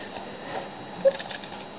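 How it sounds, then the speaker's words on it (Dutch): Rain falling outdoors, heard as a soft, steady patter and hiss with one brief, slightly louder tap partway through. "Het regent."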